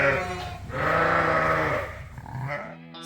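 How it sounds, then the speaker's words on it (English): Sheep and lambs in a barn during lambing season bleat close and loud, one long wavering bleat followed by shorter overlapping calls, with no talk. "Right now we're going to let lambs out of jugs."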